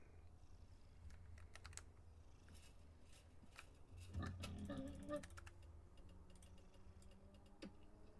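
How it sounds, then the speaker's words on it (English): A faint, low steady purr from a cat in a survival sandbox video game runs throughout, with light clicking taps scattered over it and a slightly louder rumbling stretch midway. "Oh, listen to that cat purr."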